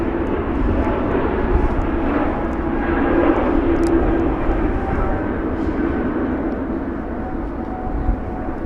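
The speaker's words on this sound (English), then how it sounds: "Breeze, flying to New York State" Breeze Airways airliner lining up for departure at LAX, bound for New York State: a steady, fairly loud broadband jet-engine roar holding evenly throughout with no talk.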